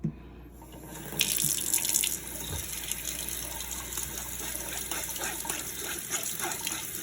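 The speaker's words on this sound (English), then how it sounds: "Now I'm going to just use a good flow of water to help break up the rest of the sacks" Strong tap water runs steadily over tomato, eggplant, pepper or cucumber seeds held in a strainer, a continuous splashing rush with brief spoon scraping, close and alone.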